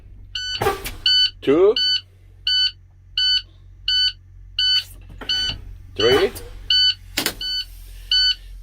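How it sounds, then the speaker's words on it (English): A truck's air brake pedal is pressed and released in the cab of an automatic Class A truck, giving several sharp bursts of air hiss over a steady, evenly spaced warning beep, while a man counts aloud. "For that, you guys wanna press on the brake and release it."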